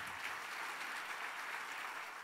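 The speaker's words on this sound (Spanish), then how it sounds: "vamos a darle un aplauso a Dios de medio minuto" A church congregation claps together in a steady, dense wash of applause that fills the room evenly. It is faint and distant, with no clear voices above it.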